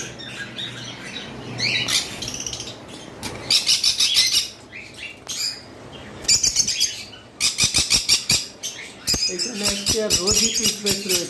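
Blue-green Forpus parrotlets chirp in quick bursts of bright, high tweets alongside wing flutters and scratching, close by. Someone talks now and then between the calls.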